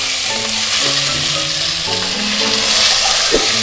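Beef hits hot oil in a smoking iron wok and is tossed with a wooden spatula for a stew. A loud, continuous sizzle and crackle fills the clip, with occasional scraping strokes.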